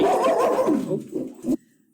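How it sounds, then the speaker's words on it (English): A dog barks and whimpers nearby in a home, a dense burst of yelps and bow-wows for about a second and a half, then cutting off abruptly into near silence. "if you hear my dog start barking"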